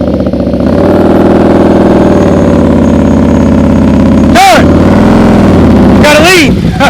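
A motorcycle engine idles and runs at low speed during slow-speed riding practice at night, a close, steady throttle drone with someone talking over it in short bursts.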